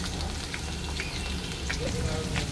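Potatoes sizzle and fry in a pan as a steady, close crackle with scattered pops running through the short stretch, with no voices over it.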